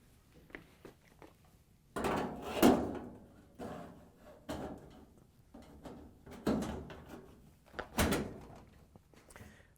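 A GE dryer's top panel is lowered and seated into place during LP conversion kit installation, producing several dull thunks and clunks spread across the clip, with louder knocks near the middle and end and a few lighter taps between.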